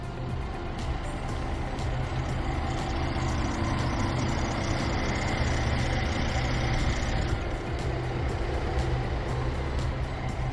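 Steady, even idle from a 2017 Mercedes-Benz SL 450 engine, a continuous low hum heard up close and alone with no voices.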